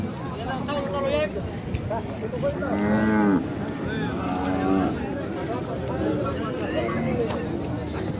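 Khillar bull mooing at a busy cattle market in Sangola, a few drawn-out moos close by with a long harmonic call near the middle, heard under steady crowd murmur and talk.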